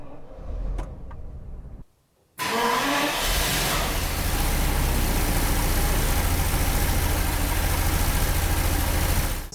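A cold Jaguar V12 cranks briefly, goes quiet for a moment, then catches and settles into a steady, loud idle running a little low, with no voices over it.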